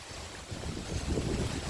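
Strong typhoon wind during Typhoon Kristine in Bohol, blowing outdoors as a dense, continuous roar with buffeting against the microphone that builds slightly in force, and with no voices.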